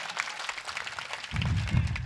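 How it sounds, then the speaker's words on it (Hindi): An audience at a Hindi comic poetry gathering breaks into a short burst of clapping, rising in the second half and sustained to the end. "एक बार ताली बजाकर मुझे अनुमति दीजिए।"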